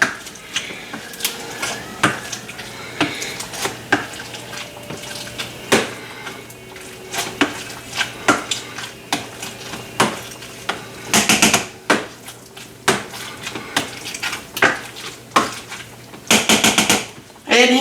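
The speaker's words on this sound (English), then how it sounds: "take like my masher and actually mash this up" Potatoes being worked with a handheld potato masher for mashed potatoes topped with beef, mushroom and gravy, heard as a steady run of close, irregular thumps and clatters against the bowl, with some louder metallic knocks partway through.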